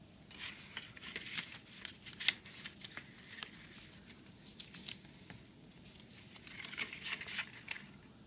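Soft crinkling and rustling of a paper notecard being folded up from the bottom by hand, faint and close, with scattered small crisp creases and taps.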